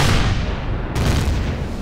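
An enemy drone firing on a ship in Empyrion, heard as heavy, booming weapon blasts over a constant low engine rumble, with a sharp impact landing midway through.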